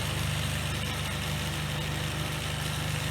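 A three-phase induction motor runs under a load test at about 1494 rpm, giving a steady, loud hum with constant mechanical whir and no pauses.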